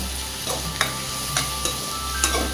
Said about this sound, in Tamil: உள்ளே போட்டிங்கன்னா இந்த மாதிரி பொரியுவாங்க நல்லா கிண்டி விட்டுட்டே இருங்க